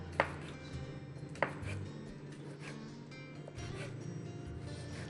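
A knife chops sausage into thin pieces on a board with a few distinct, sharp cuts spaced about a second apart over a low background hum.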